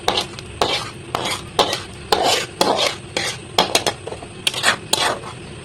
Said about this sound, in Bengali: একটা চামচের সাহায্যে এরকম করে সবটি ছেঁকে নেব